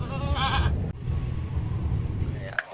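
Goats at a sacrificial animal seller in Lampung bleat in a wavering cry near the start, followed by a steady murmur of surrounding noise and a short knock toward the end.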